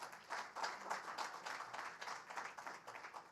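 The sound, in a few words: applause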